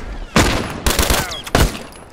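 Rifle gunfire in a video game rings out in three loud, sharp bursts, each a rapid volley of shots with a ringing tail, spaced roughly half a second apart.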